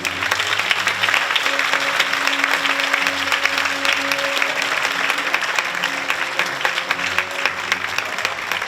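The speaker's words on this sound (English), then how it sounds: "Let's give him a big round of applause." University audience applauding a guest professor taking the stage, a dense, steady wash of clapping from a large crowd that holds for several seconds, with a few faint voices mixed in.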